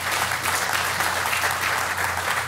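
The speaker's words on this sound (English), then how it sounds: "Yeah, you can clap for that." Loud, dense audience applause from a congregation during a sermon, continuous and uniform throughout with a low hum underneath.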